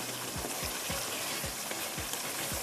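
Gosht (meat) frying dry in a pan for tamatar gosht, a steady close sizzle broken by regular stirring scrapes, with no talk.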